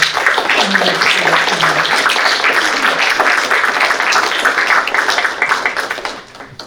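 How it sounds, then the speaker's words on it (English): Applause at a League of Women Voters candidate forum in Niskayuna, a steady, dense clatter of many hands lasting several seconds before tapering off near the end. "we can give a round of applause"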